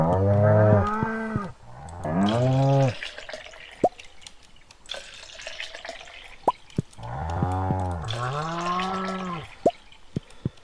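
Cows on a farm in the video game Stardew Valley, giving several long, drawn-out moos one after another, loud and close, with short dripping plinks and clicks between the calls.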